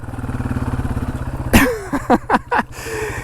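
A Yamaha TW200 motorcycle throttling through wet sand, a close, loud pulsing engine chug that gives way to a burst of revving and several short throttle blips with clattering.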